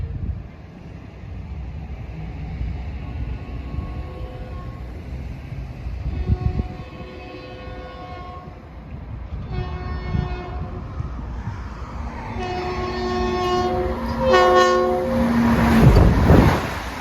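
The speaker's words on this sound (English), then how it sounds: "So he'll be going through here at track speed," LIRR train 2060 rushes through at 80 mph, its horn sounding in several long blasts that grow louder as it approaches, then a roaring rush of wheels and wind as it passes close by.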